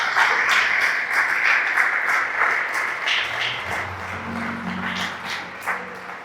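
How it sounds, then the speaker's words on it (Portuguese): Church congregation applauding the Lord during a Portuguese-language service, a moderate wash of clapping that gradually thins while a low instrumental tone enters toward the end. "Aplauda o Senhor mais uma vez."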